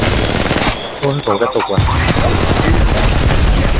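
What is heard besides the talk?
gunfire in the video game Apex Legends Mobile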